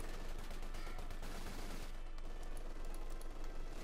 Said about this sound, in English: A machine gun fire there against the Universal Carrier.